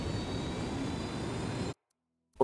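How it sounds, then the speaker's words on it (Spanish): Helicopter in Ghost Recon Wildlands, a steady loud rotor and turbine roar filling the scene, then cutting abruptly to silence with a small knock at the end. "Vale, creo que vamos a ir con el helicóptero"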